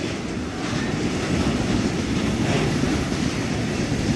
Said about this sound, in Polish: Przetaczają się tutaj kolejne, kolejne wagony.